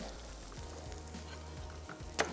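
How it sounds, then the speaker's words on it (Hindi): Onion and garlic frying in a pan, a steady low sizzle and crackle running throughout at moderate volume, with a brief louder clatter near the end. "चलें, प्याज हमारी होगी फ्राई और इसमें डाल देते हैं थोड़ा सा लहसुन"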